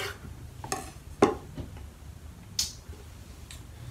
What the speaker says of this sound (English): I'm gonna chop this up in the way I always chop up apples.